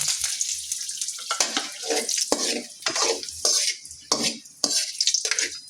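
Chilies fry in hot oil in a pan, giving repeated bursts of sizzling and hissing as they are stirred and turned, each surge fading before the next.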